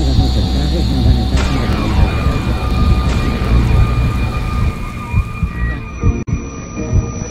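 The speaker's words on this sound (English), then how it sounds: "I've never seen such a storm and such a rain before." Heavy rain pours steadily over low rumbling thunder during a storm in North Wales, loud and close, with a few sharp tones and a brief burst near the end.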